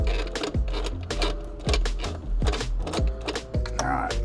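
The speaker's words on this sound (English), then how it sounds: "let's get 2 of these rail bolts out" A ratchet wrench loosening fuel rail bolts on a drag car engine, clicking in a steady, rapid rhythm of repeated strokes, close and fairly loud, with a voice occasionally audible underneath.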